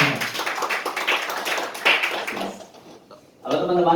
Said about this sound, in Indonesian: tepuk tangan dong untuk Mas Anjas Marita